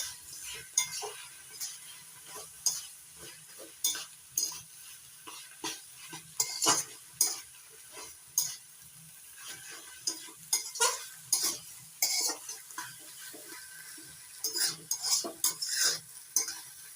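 Rice flour being stirred into a spinach curry with fish head in a pan, a spoon scraping and clinking against the metal in irregular bursts over a soft, continuous sizzle, close with no talk.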